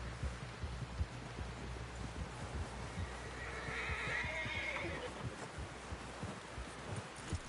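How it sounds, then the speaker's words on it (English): A horse in the Red Dead Redemption video game whinnies once mid-clip, a drawn-out neigh rising over a steady bed of clip-clopping hooves and low rumble, with no speech. "Someone help John down off this horse"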